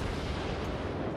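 Ship cannon fire in the naval battle game World of Warships sounds as a dense, continuous rumble of booming shots, loud and without any clear gaps between them.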